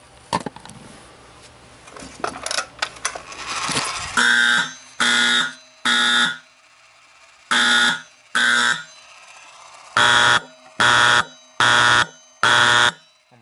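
An IBM 4030 fire alarm sounds during a test, opening with a few clicks and knocks before blaring in loud, evenly spaced harsh buzzing blasts, about ten of them, each under a second long with short gaps between.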